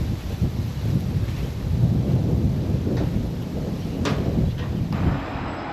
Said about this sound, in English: I'm back in that wind again.